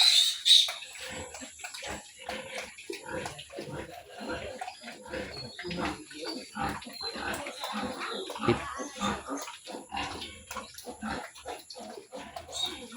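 Low grunts from a sow repeat in short bursts close by, scattered irregularly over steady faint background noise.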